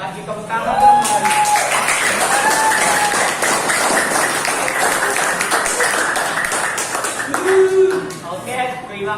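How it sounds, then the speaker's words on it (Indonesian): Students in a junior high school classroom in Jakarta clap together in dense, steady applause that fills the room, with voices and a teacher's speech mixed in throughout. "tepuk tangan dong."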